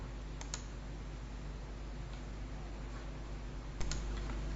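Mouse clicks on a web page's settings, two faint, sharp clicks several seconds apart over a steady low hum.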